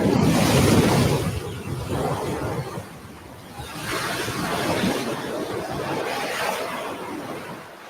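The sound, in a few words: pounding ocean waves on a beach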